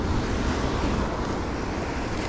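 Ocean waves on the California coast heard from a boat while rock fishing, a loud continuous surf wash mixed with heavy wind rumble on the microphone, steady for the whole stretch.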